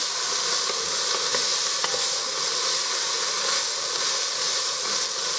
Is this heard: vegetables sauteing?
yes